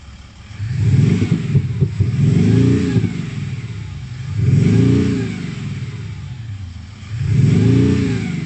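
A Mercedes-Benz R-Class 4Matic with a V8 and active sound revs up three times in a steady rhythm, each rising engine roar swelling loud and close before easing back to a lower idle hum.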